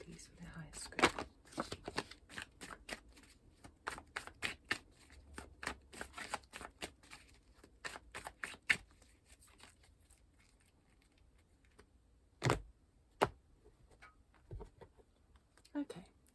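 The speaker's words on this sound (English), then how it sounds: "I'm cutting the deck for the Celtic Cross." A tarot deck is shuffled and cut, giving close, rapid riffles and card flicks in dense bursts for about nine seconds, then a few separate sharp taps and slaps of cards against a quiet background.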